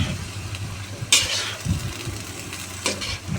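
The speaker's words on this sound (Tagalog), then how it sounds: "Halo-haloin po natin ulit hanggang sa lumambot na po siya lahat." Pansit bihon rice noodles with cabbage are tossed in a pan, giving soft scraping stirs and a low sizzle over a faint background hum, with a couple of sharper clatters.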